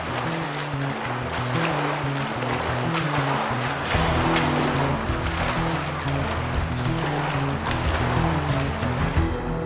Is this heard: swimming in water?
yes